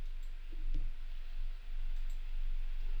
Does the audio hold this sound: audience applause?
no